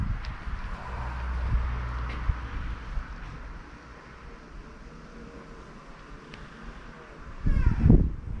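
Wind buffets and rumbles across the microphone in uneven gusts, with a louder burst near the end; no one speaks.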